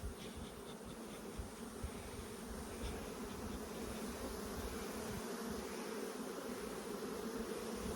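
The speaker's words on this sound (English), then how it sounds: "And even if these bees fly up, it doesn't matter." Honeybees buzz around an open hive while two colonies are merged, a steady, faint, dense hum of many wings with no break throughout.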